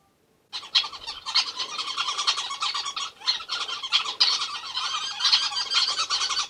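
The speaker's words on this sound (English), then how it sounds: "the birds have to communicate with each other, so they chatter constantly" Dense, constant chattering of many small social weaver birds, high-pitched chirps and squawks overlapping in a busy, close flock with no pauses.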